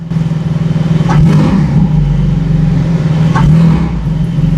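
Porsche Boxster 4.0 GTS with the exhaust revving loudly up close, a deep steady rumble that swells in two sharp blips of throttle, standing alone without talk.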